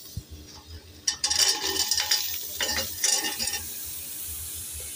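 Brinjal pieces cut like potatoes are tipped into browned onions in a pressure cooker and stirred, giving a soft sizzle and scraping spoon strokes at close range, alone without talk.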